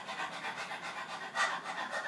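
A person panting rapidly like a dog, imitating a tongue burning from spicy food, steady quick breathy huffs close and fairly quiet, one slightly stronger near the middle.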